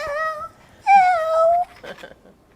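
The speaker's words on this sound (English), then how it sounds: "Did you hear Luna going, meow," Pet cat Luna gives two drawn-out, tonal meows close by in a kitchen, the second longer and sliding downward, followed by a brief softer murmur and quiet.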